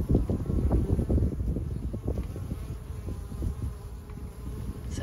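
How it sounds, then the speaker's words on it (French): Honey bees buzzing steadily at a beehive as they return loaded with pollen, a dense close swarm hum outdoors with light wind noise. "les abeilles ramènent du pollen, elles en ont plein les poches"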